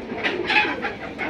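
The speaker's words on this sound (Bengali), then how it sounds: "এই মাদি বিগ সাইজের কবুতর, মোটা কবুতর, পাল্লা লাইনের কবুতর" Big, heavy pigeons cooing at close range, a few soft repeated calls over a faint background, no voices.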